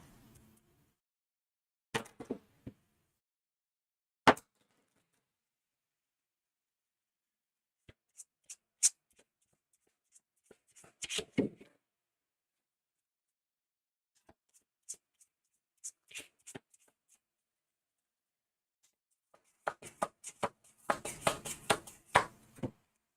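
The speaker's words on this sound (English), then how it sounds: "So I'm shuffling these, drawing 9." Encounter cards for the Too Many Bones board game are shuffled by hand, giving quiet sparse riffles and taps separated by long silences, with a denser flurry of shuffling near the end.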